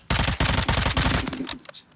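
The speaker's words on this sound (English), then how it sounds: "I personally don't care for this gun because I don't like burst fire." The Shepherd burst-fire gun in a Call of Duty game fires rapid, loud, close bursts of shots for over a second, then tapers off into brief mechanical clicks and quiet.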